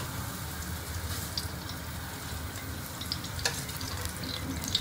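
Hot ghee sizzles steadily in a kadai, a soft continuous crackle with a few small pops, close by and fairly quiet.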